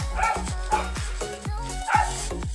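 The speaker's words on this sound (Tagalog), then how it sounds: "Pasensya na po kung maingay yung aso" A dog barks repeatedly nearby, sharp yips coming in quick bursts of two or three with short pauses between.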